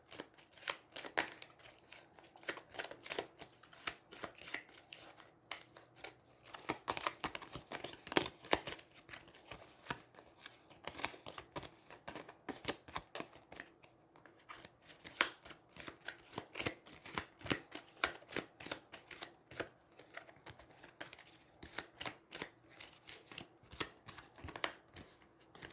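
Rapid, crisp riffling of playing cards from the card game Aeons End being shuffled, repeated in bursts with short pauses between, close and fairly quiet.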